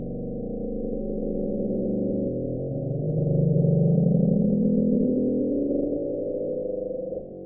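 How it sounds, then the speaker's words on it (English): The Bloop, an ultra-low underwater sound linked to Antarctic ice quakes cracking and breaking up, rendered as a droning, muffled rumble that swells and rises in pitch midway, then slowly fades. It plays continuously and alone. "It's the sound of ice breaking up and cracking, and the sound was picked up as the bloop."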